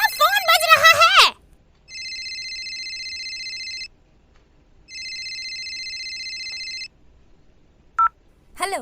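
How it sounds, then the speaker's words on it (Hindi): Mobile phone ringtone ringing indoors, two long bursts of steady electronic trilling separated by a pause, clear and close, with someone speaking briefly before it and another voice at the end. "तुम्हारा फोन बज रहा है।"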